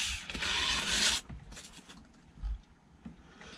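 An electric motor armature is rubbed with 600-grit sandpaper in strokes that always run the same direction: one long, loud rasping stroke, then quieter, scattered scrapes.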